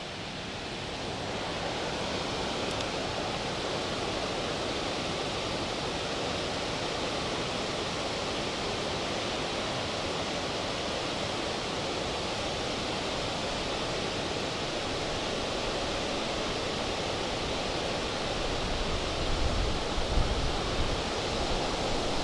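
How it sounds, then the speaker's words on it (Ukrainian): Strong wind roars steadily into the microphone without a break, a dense, loud rushing noise with no voices. "а тут вітер ще більший"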